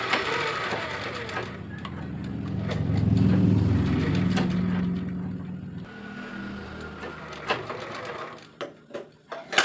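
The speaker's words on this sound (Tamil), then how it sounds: "அப்படி தச்சுட்டு தான் நம்ம பெரட்டணும் அதுக்காக இப்போ நம்ம தச்சுக்கிடுவோம்" A sewing machine stitches the lining cloth of a sleeve, running in a steady motor whir that swells and eases, then ends in a few short bursts and clicks near the close.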